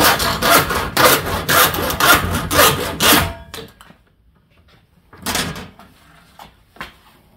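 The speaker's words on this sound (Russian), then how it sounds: "Как у нас эта пила справится." A Denzel wood hand saw with 3D-sharpened teeth cuts through plastic. It makes about three seconds of quick, rhythmic back-and-forth rasping strokes, then a pause, then another short burst of strokes, all loud and close.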